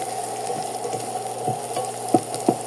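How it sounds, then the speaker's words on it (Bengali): Cardamom and onion frying in hot oil for a thin country-chicken and potato curry, a steady close sizzle with a few sharper crackles and scrapes of stirring near the end. "আমি সবসময় এলাচটা তেলের মধ্যে আগে দিয়ে নিই, তারপর পেঁয়াজটা দিই।"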